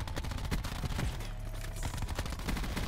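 Rapid SMG gunfire in Black Ops 4, dense bursts of close, loud shots packed together over nearly three seconds with continuous game noise underneath and no talking.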